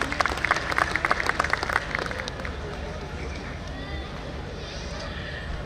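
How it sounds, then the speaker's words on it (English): Audience applause for a speaker at a school annual function, a dense round of clapping that is strong for the first two seconds and then fades into a lower, steady crowd murmur. "Please give sir a very big round of applause"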